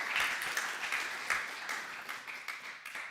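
An audience at JuliaCon Global 2026 claps after a conference talk, a steady wash of many hands at moderate level with a few louder individual claps poking through for about three seconds.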